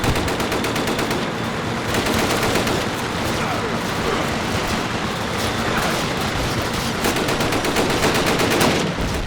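Intense Call of Duty battle at Ponyri, with troops advancing under tank cover: rapid machine-gun bursts and rifle shots pile up into a loud, unbroken wall of crackling gunfire that runs the whole time.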